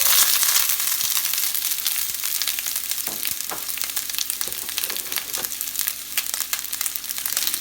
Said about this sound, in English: Okay, my onions are ready to go in.